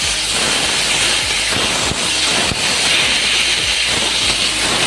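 Ground cumin and black pepper paste frying in a pan, a loud, steady hissing sizzle close by with a few scraping stirs, no talking heard.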